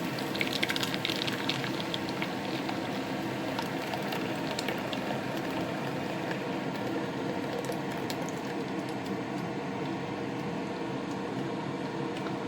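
Tomatoes go into a pan of cooked onions and carrots, setting off a wet squishing burst and then a steady, busy sizzle and bubble that continues at an even level with no talking.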